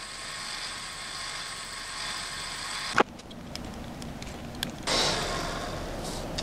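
Worm gear of a Skywatcher AZ-GTI telescope mount running through its travel: a faint steady motor whine that cuts off with a sharp click midway, then soft clicks and a renewed brief hum.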